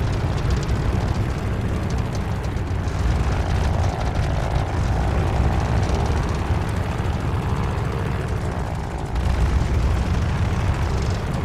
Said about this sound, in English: do an engine run-up. Make sure she doesn't blow out.